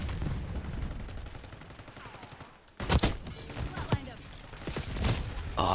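Shotgun blasts in the video game Black Ops 6, a couple of heavy booming shots cutting through a busy, noisy battle backdrop of distant gunfire.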